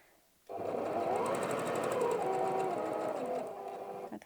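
A sewing machine runs a continuous line of stitches through a fabric wallet, a steady close whirring hum with fine rapid clatter that stops abruptly after a few seconds.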